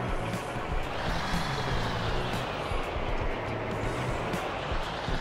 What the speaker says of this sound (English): The full engine death production's fire engine.